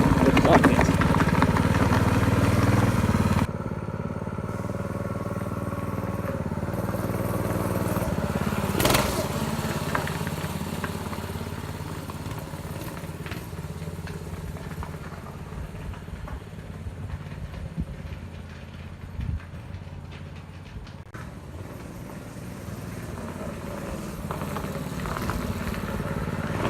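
A small engine on a homemade drift trike buzzes steadily during a test ride, running continuously close to the recorder with slight rises and dips in throttle.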